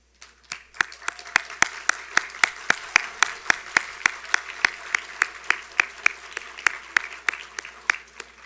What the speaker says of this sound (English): graduates, I would like to offer you the opportunity to stand and applaud your family and friends